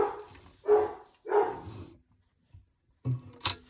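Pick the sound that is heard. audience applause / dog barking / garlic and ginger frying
dog barking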